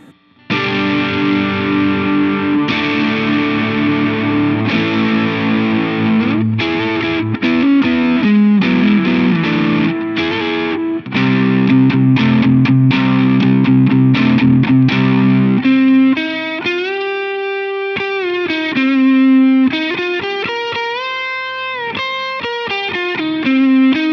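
Single-coil electric guitar driven through an MXR Custom Badass Modified O.D. overdrive pedal, played alone and loud: chugging distorted chords give way to sustained, bending lead notes.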